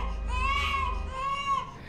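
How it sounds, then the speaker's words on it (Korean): Baby crying upstairs in a horror film, a sustained wailing cry with rising and falling pitch, moderately loud and continuous over a low rumbling background. "위층에서 아기의 울음소리가 들리고"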